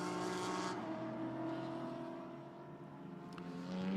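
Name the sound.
GT4 race cars leaving pit lane at Misano qualifying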